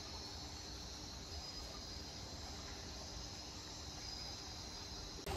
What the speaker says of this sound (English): it's like small insects making noises